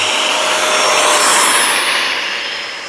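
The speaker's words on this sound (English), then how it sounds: "I'm gonna just take off and try to come around and land" A Freewing A-6 Intruder 80mm electric ducted fan RC jet taking off, a loud, steady high-pitched whooshing fan roar that fades slightly at the end, close by with no talk.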